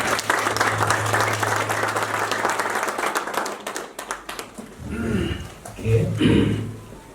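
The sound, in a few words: congregation applauding at wedding ceremony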